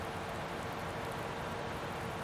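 Steady rain in the farming video game Farming Simulator 19, an even, continuous hiss of falling drops with no breaks or distinct impacts, fairly quiet and heard alone without talk.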